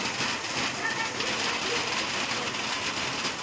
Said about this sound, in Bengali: দেখো কি জোর বৃষ্টি শুরু হয়েছে দেখো